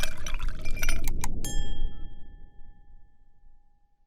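Glasses clink together in a toast, a few bright chimes in quick succession followed by one clear ringing tone that slowly fades into quiet.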